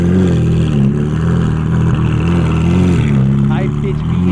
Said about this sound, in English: High pitch V8.